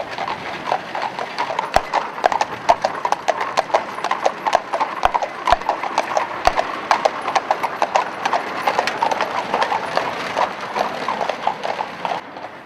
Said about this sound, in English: one man is controlling the horse in the shafts